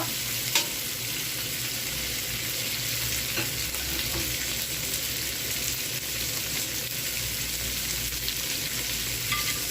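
Tomatoes stir-frying in a pan for pakbet with Japanese beans, a continuous even sizzle with occasional light scrapes of a spatula, close and steady throughout, no speech.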